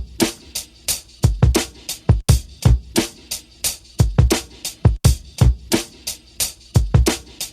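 Raw, unprocessed drum break sample playing on its own: punchy kicks and crisp snares with hi-hats in a loose, steady funk groove, recorded with a dusty vintage character.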